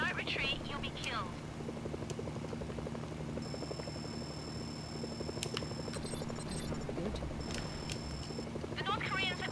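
Helicopters approach in the video game Mercenaries: Playground of Destruction, a steady rotor thump under game sound effects, with voices talking at the start and end.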